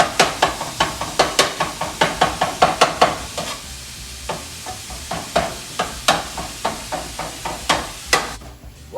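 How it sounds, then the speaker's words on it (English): Chicken being chopped for a cheesesteak on a hot griddle: rapid, loud metal spatula strikes in a brisk rhythm over a steady sizzle, with a short pause midway before the chopping resumes. "Just chop this bad boy up."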